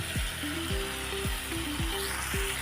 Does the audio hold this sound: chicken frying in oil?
yes